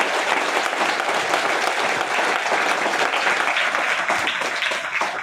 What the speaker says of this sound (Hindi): एक बार परमात्मा के लिए दिल खोल के ताली बजाएं